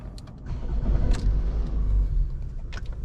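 A high-mileage car engine, its owner chasing a knocking noise, idles with a steady low rumble that stays close and moderately loud, with faint clicks above it and no voices.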